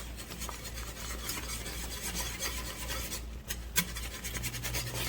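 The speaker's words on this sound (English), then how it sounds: "Stir, stir, stir, because you don't want no lumps" Liquid being stirred into mushroom-onion gravy in a pan, a close, rapid scraping and rasping of a utensil against the pan bottom that continues steadily, with a couple of sharper knocks near the end.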